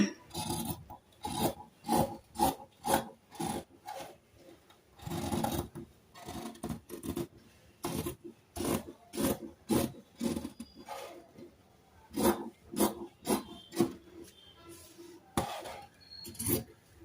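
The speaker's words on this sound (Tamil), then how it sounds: "இப்ப இந்த பகுதியை நம்ம கட் பண்ணி எடுத்துக்கலாம்." Scissors cut through blouse fabric at a tailoring table in short rhythmic rasping snips, close and fairly quiet. The snips fall in steady runs, with no talking over them.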